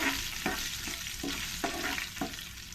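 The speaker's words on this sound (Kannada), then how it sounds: "ಒಂದು ಸ್ವಲ್ಪ ಎಣ್ಣೆಯಲ್ಲಿ ಆ ಮೆಣಸಿನ್ಕಾಯಿ ಚೆನ್ನಾಗಿ ಫ್ರೈ ಆದರೆ ಚೆನ್ನಾಗಿರುತ್ತೆ" Green chillies and curry leaves fry in a little oil, giving a loud, continuous close sizzle broken by regular scraping stirs of a spoon in the pan.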